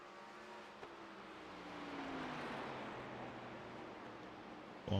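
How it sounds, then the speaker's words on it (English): Onboard engine roar of a race car in a 1987 Cup Series stock car racing video game, a steady sustained drone holding pitch as the car exits a turn onto the straight, with a sharp blip at the very end. "On board with the 70 car of Harry Grindell coming out of turn 4."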